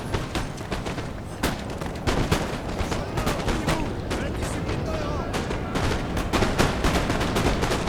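Musket volleys in a Napoleon: Total War multiplayer battle on Italian grasslands, with repeated sharp, cracking reports layered over a constant battle din, loud and steady throughout.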